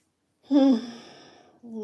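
A single drawn-out yawn from a woman, voiced and sighing and fading over about a second, followed by the start of her speech.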